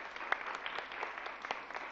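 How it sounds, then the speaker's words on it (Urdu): A studio audience at a Ramzan special television transmission claps in a brief, steady patter of applause, moderately loud with no voices over it. "تالیاں تو بجائیں جی ان کے لیے بھی"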